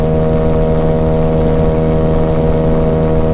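A Honda Ruckus scooter engine drones steadily and loudly under acceleration, a continuous close buzzing tone with strong wind rumble mixed in and no talking.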